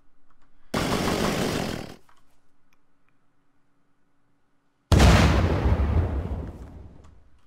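A makeshift vehicle in Unturned blows up against a full-health wall, giving a loud roaring blast that rings and fades over a few seconds, after an earlier sustained burst of rough noise.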